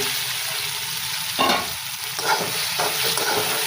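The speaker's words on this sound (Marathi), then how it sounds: "छान असं परतवून घ्यायचं आहे" Mashed eggplant for bharit fries in a pan with a constant loud hiss, punctuated by a few thick scraping stirs of a spatula, heard close up without any speech.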